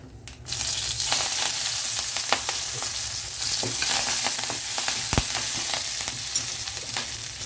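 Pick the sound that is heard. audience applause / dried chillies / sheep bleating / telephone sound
dried chillies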